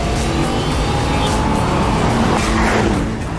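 A car with a 4.4-litre twin-turbocharged V8 making 523 horsepower drives hard with a loud, close, steady engine roar and some tyre noise, with no break across the stretch.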